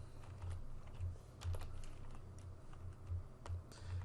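Close, steady typing on a computer keyboard, a run of quick light key clicks with a few heavier thumps, alone without speech.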